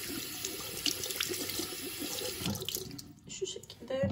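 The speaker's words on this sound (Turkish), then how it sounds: "Yine ılık suyla güzelce arındırıyoruz ellerimizden." Lukewarm tap water runs steadily from a sink faucet as hands are rinsed, a continuous close splashing stream with brief shifts in flow toward the end.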